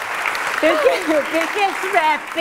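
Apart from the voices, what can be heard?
audience applause at a talent show final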